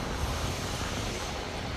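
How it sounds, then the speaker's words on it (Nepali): Gusting wind outdoors near Kai Tak stadium, a steady loud rushing roar buffeting the microphone throughout, with no talking. "हावा आयो"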